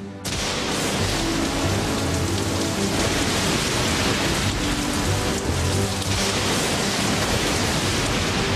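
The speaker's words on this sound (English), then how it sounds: "Storm came back." Heavy rain pours in a steady, loud roar throughout a thunderstorm at a night-time construction site for the KLCC towers, with a low rumble of thunder mixed into the dense downpour.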